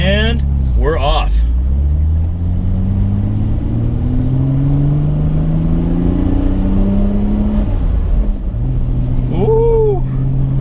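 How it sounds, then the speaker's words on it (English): A 1999 Nissan Skyline GT-R R34 V-Spec with 640 hp pulls away hard, its engine rising steadily through the revs with a rising whir of turbo spool. Heard from inside the car, loud and continuous, with brief shifts and a voice speaking over it. "you can just hear that turbo spool up"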